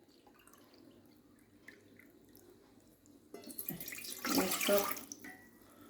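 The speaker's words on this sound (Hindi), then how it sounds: "अब मैं इसके अंदर पानी डालती हूँ" Water is poured into a saucepan for making jelly, a quiet room tone giving way to a louder close splashing pour that swells for about two seconds and then fades; a brief spoken word comes early.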